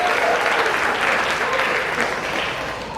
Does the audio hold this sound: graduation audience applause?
yes